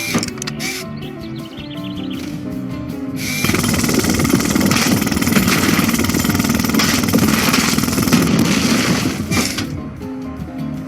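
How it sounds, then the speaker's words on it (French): Jackhammer from a Paw Patrol video game breaking up a block of rock, a loud rapid rattling burst that starts after a few seconds and hammers steadily for about six seconds before cutting back to quieter game background. "Aide Ruben à casser le bloc de roche avec son marteau-piqueur en appuyant sur carré."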